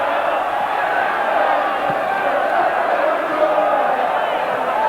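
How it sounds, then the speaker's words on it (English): A football crowd at a 1981/82 Bradford City vs Hull City match sings together, a continuous, distant mass of voices from the terraces filling the ground, with a commentator speaking over it. "the crowd now singing "Going Up Again.""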